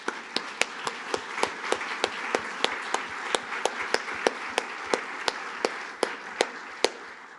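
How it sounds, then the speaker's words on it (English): An audience applauds after conference presentations, with about twenty sharp, evenly spaced claps ringing out over a room murmur. "I'd ask you just one round of applause for these excellent presentations."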